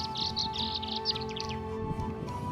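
High chirping calls of Patagonian swallows repeat in quick bursts over a steady background hum, moderately close, at Lake Paimún in Patagonia.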